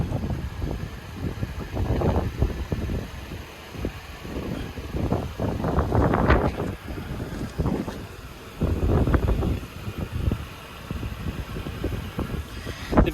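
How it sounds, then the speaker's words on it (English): Gusty wind buffeting an outdoor microphone beside a 2022 Honda Civic Sport, rising and falling in irregular surges, loudest around the middle and near the end, with no speech. "I start recording and the wind picks up"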